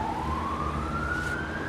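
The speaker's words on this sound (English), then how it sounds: "The ambulance has turned up." An ambulance siren wails steadily and loudly nearby as the vehicle arrives, a single sustained tone slowly rising in pitch over a low engine rumble, with no talking.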